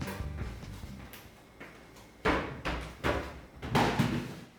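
A kitchen drawer slides and knocks shut in a home kitchen, several wooden thuds and bumps landing close by amid light handling noise.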